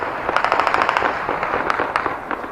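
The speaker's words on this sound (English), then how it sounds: "From multiple guns of all sizes and description, automatic gunfire lit up the night sky in a rolling thunder." Celebratory automatic gunfire from many weapons over Kabul at night, heard as rapid crackling bursts and scattered sharp pops rolling on in the distance, with no voices.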